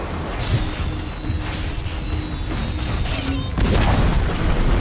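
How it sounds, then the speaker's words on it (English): A tower collapses in a Dota 2 match, heard as a loud rumbling boom with crashing debris, followed by a heavier thud near the end, all with no talk. "Dire's middle tower has fallen."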